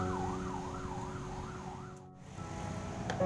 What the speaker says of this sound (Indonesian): Ada ambulan teman-teman.